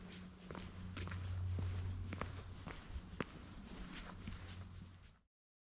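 Footsteps crunch along a hiking trail on San Juan Island, steady close walking strides with light scuffs over a constant outdoor hush.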